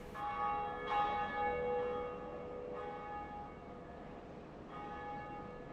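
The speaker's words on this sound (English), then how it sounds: "So ring the bell." The Bell of Awakening rings in the video game Dark Souls: two clear metallic bell strikes with long ringing, shimmering decay, resonant and moderately distant, over a quiet background with no talking.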